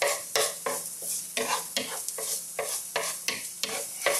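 Garlic and ginger sizzle in a pan for Thai tofu lettuce wraps under a brisk, regular stirring rhythm, roughly three strokes a second. Each stroke brings a scrape and a surge of frying noise, close up with no voices.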